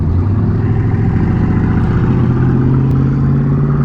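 A Kawasaki Ninja ZX-6R inline four-cylinder motorcycle engine hums steadily at close range, a continuous buzzing tone with a slight pitch rise partway through.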